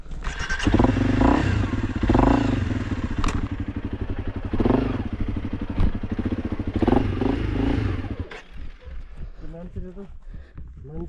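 Dirt bike engine, a Honda CRF 300L or Xpulse on a rough mountain trail in Nepal, chugging and revving unevenly up close, then dropping to a low idle; people talk throughout.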